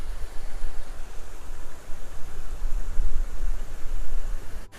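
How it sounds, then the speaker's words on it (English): Water flows steadily in a Japanese garden in Nagoya, a continuous broadband rush like a stream or small waterfall that fills the scene close by, with no voices over it. "Listen to the sound of water."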